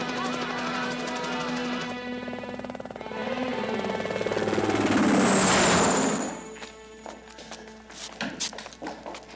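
A helicopter's engine and rotor build steadily as the aircraft lifts off for takeoff, a loud continuous whine and thrum rising to a peak before fading, followed by lighter scattered tapping and clatter.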